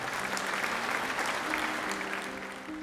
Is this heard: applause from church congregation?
yes